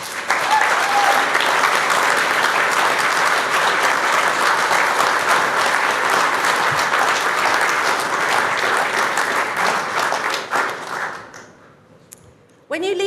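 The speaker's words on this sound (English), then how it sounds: "give them a tumultuous round of applause" An audience at a university degree ceremony in Dublin breaks into loud, sustained applause that fills a large hall for about ten seconds before fading out, with a brief voice near the end.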